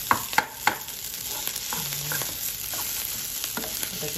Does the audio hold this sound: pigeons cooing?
no